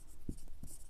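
A pen writing out a math solution on paper, two brief soft scratchy strokes, close and quiet.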